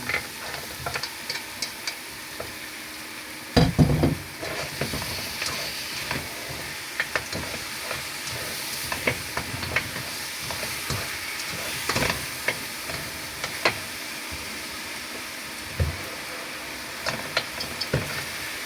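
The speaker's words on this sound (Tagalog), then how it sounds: "Tapos lagyan na natin yung oxtail na marinate natin." Marinated oxtail sizzles and fries in a pan with browned garlic, a steady hiss broken by stirring scrapes and occasional louder spatters, close and moderately loud throughout.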